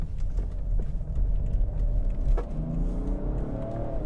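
BMW Alpina XD3 BiTurbo diesel SUV on winter tires accelerating, a steady close engine drone with a rising whine toward the end, heard from inside the cabin with no talking.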